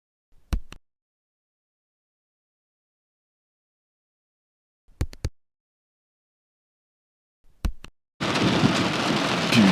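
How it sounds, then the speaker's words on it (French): A thunderstorm rolls over a campsite in Australia, with three separate loud cracks of thunder spaced seconds apart, then heavy rain bursting in and pouring steadily. "Il y a une putain de tempête qui passe au-dessus de nous."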